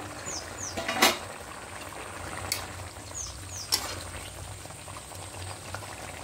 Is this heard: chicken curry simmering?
yes